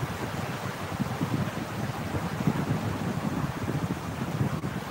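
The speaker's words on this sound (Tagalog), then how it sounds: "grabe lakas ng ulan, no?" Heavy rain pours steadily on a rainy afternoon, a dense, continuous hiss and patter that fills the scene with no voices.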